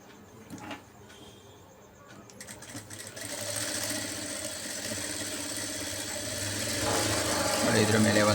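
A sewing machine stitches a blouse sleeve, starting after a few handling clicks and then whirring steadily and close, growing slightly louder toward the end.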